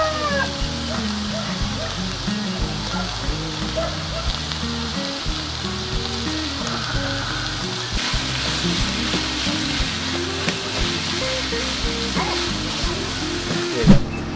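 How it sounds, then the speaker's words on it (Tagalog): Ground meat sautéing in a pan for tortang talong, a steady close sizzle and hiss with occasional stirring scrapes throughout, ending in a brief louder clatter. "habang inaantay natin pumunat tong giniling natin ginigisa"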